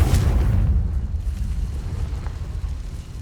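Confringo blasting spell from Hogwarts Legacy erupting in a loud, rumbling explosion that booms at the start and then rolls on as a sustained low roar, with no voices over it.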